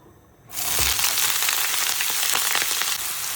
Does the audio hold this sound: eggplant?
yes